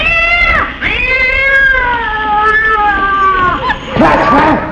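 A couple of cats shut in a closet yowl in long, drawn-out meows, loud and close, rising and falling in pitch, in a 1949 film soundtrack.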